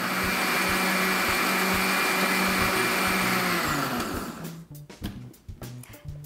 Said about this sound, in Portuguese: A gente bate tudo no liquidificador.